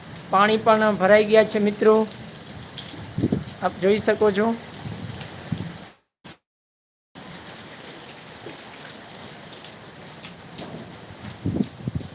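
Rain falls across the hilly Kutch countryside in a soft, continuous patter, with someone speaking over it at first before the steady shower carries on alone after a brief dropout.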